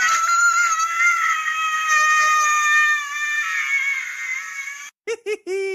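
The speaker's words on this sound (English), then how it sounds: "it's kind of just the same scream he does when he puts the aftershave on his face" A boy's scream from the thriller film The Good Son: a long, high, strained wail held for about five seconds, then a few short sharp yelps, loud and alone with no talk.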